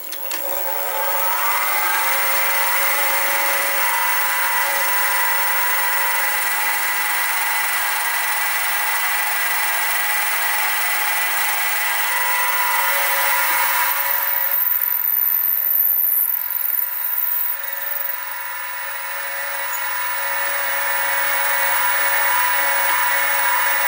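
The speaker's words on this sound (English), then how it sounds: "So I'll centre drill there and they'll then drill through with a 7BA clear," A drill on a machine table bores a 7BA clearance hole of 2.6 millimetres in metal, giving a continuous high whine with steady tonal hum, briefly shifting in pitch midway, close and consistent with no talking.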